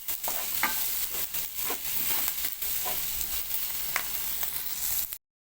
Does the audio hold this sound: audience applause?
no